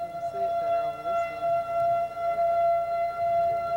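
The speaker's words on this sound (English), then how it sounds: "Well, our sirens work anyway." Outdoor warning sirens on the plains during a tornado, a steady continuous wail holding a sustained tone throughout, moderately loud with faint background noise.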